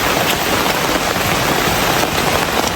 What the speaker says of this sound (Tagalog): Grabe kalakas ng ulan mga kamaritas.